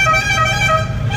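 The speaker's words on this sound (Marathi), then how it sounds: "ते यारले हॉर्न वाजवतात." A vehicle horn sounds in a sustained, close blare in city traffic near Koregaon Park, heard from a rickshaw, with the hum of road traffic underneath and no voices.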